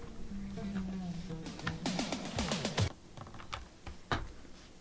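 Computer keyboard keys are pressed in quick, uneven bursts of crisp clicks, close and fairly loud, with a few isolated taps toward the end over faint background talk.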